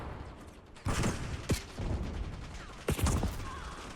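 Shotgun blasts from the Olympia, a special weapon in a first-person shooter video game, three loud sharp shots spread across a few seconds with mechanical clatter and game ambience between them.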